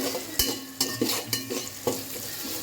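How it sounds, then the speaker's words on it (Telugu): Carrot, onion, green chili and curry leaves stirred in a hot pan for bagara rice, a bright sizzle with four or five quick scrapes and light clinks of a spoon, close up and without speech. "క్యారెట్, ఆనియన్, పచ్చిమిర్చి, కరివేపాకు వేసి ఒకసారి కలుపుకోవాలి."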